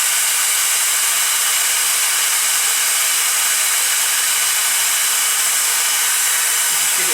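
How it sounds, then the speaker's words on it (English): A hair dryer blows steadily and loudly from start to end, a constant broadband airflow roar used to speed the drying of glue on a leather case for a Leatherman Wave, with no talk over it. "Just give it a quick zap with the hairdryer just to speed up the process."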